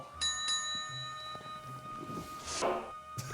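A small bell rings in the video game Titanic: Adventure Out of Time, two quick clear dings near the start followed by a fading ringing tone over quiet background noise.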